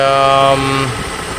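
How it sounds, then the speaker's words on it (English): A Mercedes 600SL engine running badly gives a loud, rough tonal drone that drops in pitch and fades partway through, settling into a lower, quieter rumble. "Engine runs very badly right now"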